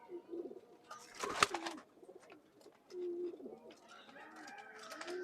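Black old-bloodline pigeon cooing in a Khulna loft, soft rolling coos repeating at close range, faint overall, with a short flutter and other bird calls mixed in.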